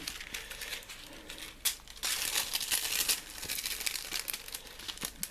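Adhesive backing is peeled and plastic sheet crinkles while a Chinese diesel heater is fitted, close crackling rustles in uneven bursts with a few sharp snaps, no talk.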